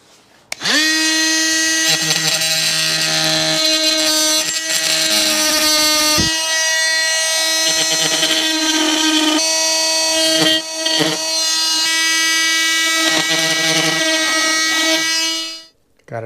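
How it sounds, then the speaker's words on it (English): Power drill boring a hole through aluminum while working on a Sea-Doo 4-TEC conversion, a loud steady high-pitched whine held for about fifteen seconds with brief dips and a grinding undertone, close up. "I'll drill a hole through there,"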